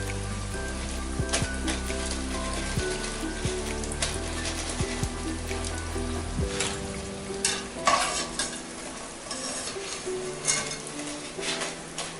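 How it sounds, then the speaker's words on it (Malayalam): Continuous crackling sizzle of idli fries frying in hot oil, with scattered sharp pops and clicks throughout, fairly close and steady. "നോക്കൂ, നമ്മുടെ ഫ്രൈസ് എല്ലാം വറുത്ത് കഴിഞ്ഞിട്ടുണ്ട്."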